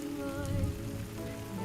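Rain falls steadily in a film scene, an even patter of drops on surfaces at moderate level, with a low musical drone and tonal hum running underneath.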